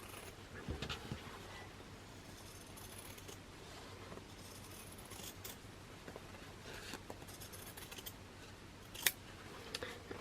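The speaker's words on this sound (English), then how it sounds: "I'm just going to cut that selvage edge off." Scissors snip through the selvage edge of fabric for a DIY scarecrow gnome craft, a steady series of close, quiet cuts with small handling rustles and no talking.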